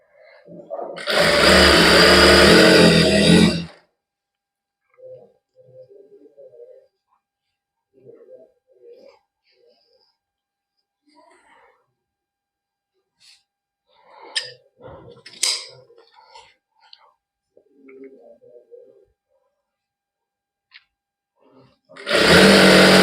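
A sewing machine stitching a straight salwar runs in two loud, whirring bursts, one near the start and one right at the end, with soft speech and faint handling noises in the quiet stretch between.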